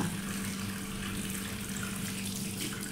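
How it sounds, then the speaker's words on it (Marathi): A tap runs steadily while cleaned fish are washed, a continuous close splash and gush of water with no break and no talking. "अशा प्रकारे सगळे मासे आपण धुवून घ्यायचे"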